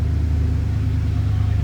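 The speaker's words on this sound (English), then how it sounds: "Fire it up so you can hear it run." A 1965 Ford F-350 crew cab with push-button four-wheel drive idles steadily, a loud, low, even engine rumble close by with no breaks.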